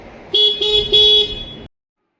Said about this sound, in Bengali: আসেন না, হর্ন বাজাই